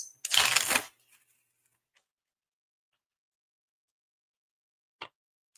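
Tarot cards get one quick, riffling shuffle that lasts under a second. Then comes near silence and a single faint flick of a card.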